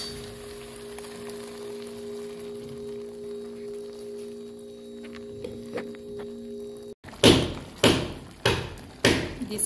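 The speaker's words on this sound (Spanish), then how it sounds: "Disculpen el ruido, es que están trabajando allá arriba," Workers on a roof above a home kitchen: after several seconds of low hum and faint clatter, a series of loud, sharp thumps lands at a steady pace of about one per second, close and heavy.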